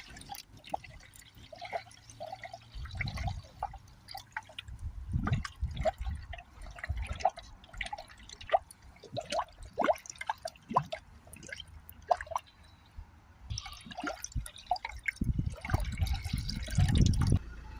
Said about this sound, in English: we just top it up with coolant there until she fills up.